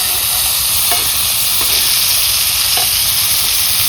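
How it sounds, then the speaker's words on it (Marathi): Mixed vegetables fry in oil on a hot iron griddle used for bhakri flatbread, giving a steady close crackling sizzle with a few faint clinks of a spatula, and nobody speaks. "तेलात सगळं तळून घेते आहे. तवा गरम आहे ना"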